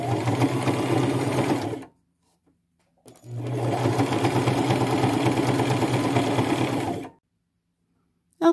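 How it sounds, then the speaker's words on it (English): A sewing machine runs a small straight stitch around the legs of a pair of pants: two long, steady buzzing runs of close motor whir, separated by a short pause and ending in silence. "I will just do a fairly small straight stitch and go all the way around each pant leg this way."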